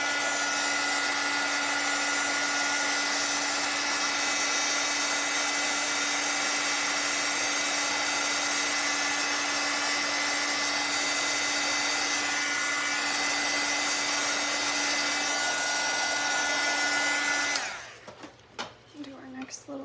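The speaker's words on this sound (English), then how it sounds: "I'm gonna use a dryer in a minute." A handheld dryer blows on a painted craft gnome, a steady loud whirring hiss with a constant hum that runs for most of the stretch and then cuts off abruptly near the end.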